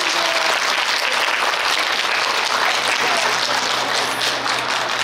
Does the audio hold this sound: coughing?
no